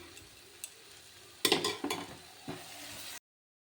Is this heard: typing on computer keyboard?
no